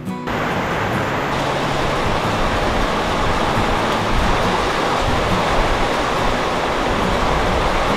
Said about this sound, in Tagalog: Habang tumatagal, palakas pa rin ang palakas ang ulan